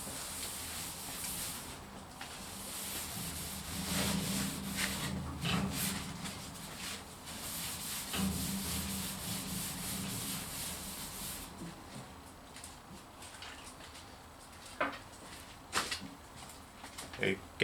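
Paper towel wiping dust and grease off the roof of a Rover P6 V8 being readied for a black vinyl top, a soft continuous rubbing hiss with brief pauses and a few sharper scuffs near the end, close by.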